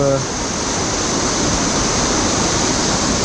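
A waterfall in a prehistoric gorge pours with a dense, constant roar of rushing water, loud and close, unbroken throughout.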